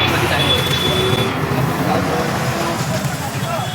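Heavy road traffic on the first morning of 2026, with buses and cars forming a dense, continuous roadway rumble and engine drone that stays loud throughout, with voices mixed into the din.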